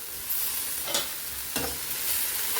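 Onions and tomatoes sizzle in a pan over high heat, with a steady close frying hiss broken by a few short scraping stirs and tosses and no voices.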